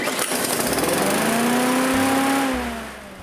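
A petrol lawn mower engine runs loud and close, its pitch climbing steadily before easing off and fading toward the end.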